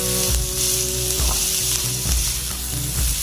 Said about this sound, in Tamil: இந்த வெங்காயம் நல்லா வதங்கணும்.